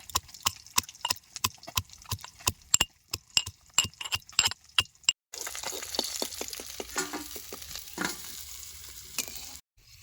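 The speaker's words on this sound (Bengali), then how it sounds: "এই এক কোয়া রসুন আর এই পাঁচ ছটা কাঁচা লঙ্কা হামল দিস্তার মধ্যে দিয়া আদা ছাঁচা করে নেব" Garlic, green chillies and ginger are crushed in a mortar and pestle during outdoor riverside village cooking, with about fifteen sharp, rhythmic pounding strikes over five seconds, followed by a continuous frying sizzle.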